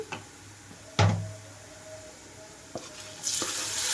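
Chopped tomatoes go into frying ginger and garlic, with a few distinct knocks of a spoon against the pan over a low simmering sizzle that swells into a brighter hiss at the end.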